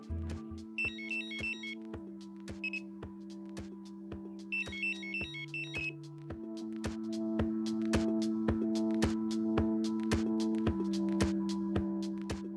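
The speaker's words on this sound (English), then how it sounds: "you will notice 3 descending low tones which differ to that of a forward take." A Nash Siren R4 fishing bite alarm sounds three low electronic tones stepping downward, mixed with brief high warbling chirps and a run of sharp clicks.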